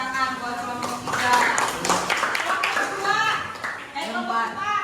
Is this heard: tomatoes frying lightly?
no